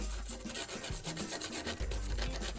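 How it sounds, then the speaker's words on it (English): A small piece held in needle-nose pliers rubbed to a point on a coarse sanding stick laid on the ground, a steady close scratchy rasp of repeated short strokes with no talk. "I took my coarsest sanding stick, I laid it on the ground and I just took one of these with some uh, needle nose pliers"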